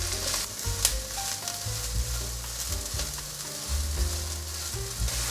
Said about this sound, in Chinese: 持续翻炒。